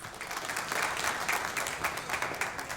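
A standing audience at the 39th BACHSAS Award 2018, a Bangladesh film journalists' ceremony, claps steadily for honoured guests. The applause is a brief, even wash of many hands with slight swells.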